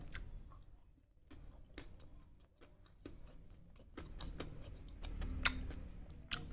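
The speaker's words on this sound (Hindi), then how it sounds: "लेकिन जो कैरेमल है छोटे छोटे इन्हें चबाना थोड़ा डिफिकल्ट लग रहा है मुझे" Crunchy chewing of Cadbury Dark Milk Salted Caramel chocolate with small hard caramel bits, a quiet close-up series of irregular ticking crunches and clicks.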